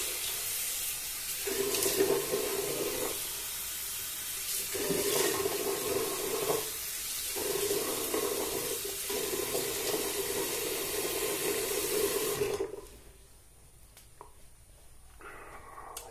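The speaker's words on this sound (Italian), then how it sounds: "io intanto mi bagno il viso." Tap water runs steadily into a bathroom sink as a man wets his face before shaving a fairly long beard, the close stream broken by a few brief pauses before it shuts off near the end; no one speaks.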